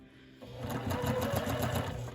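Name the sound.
sewing machine stitching quilt block seam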